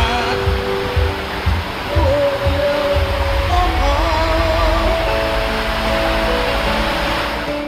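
Steady, full rushing roar of the seven-tiered waterfall at Erawan National Park in Thailand, a continuous wash of falling water, close and loud, with a faint tonal murmur partway through.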